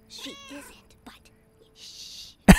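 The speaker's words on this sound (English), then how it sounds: "I thought she said meow" A cat meows twice in a video game, followed by a short breathy sound and a loud sharp noise at the end, with a brief voice in between.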